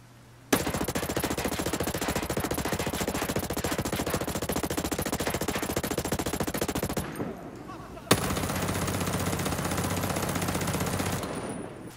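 Assault rifles, including an M4A1, fire in long sustained automatic bursts in the video game Ghost Recon Breakpoint, loud and continuous, with a brief pause before a second extended burst.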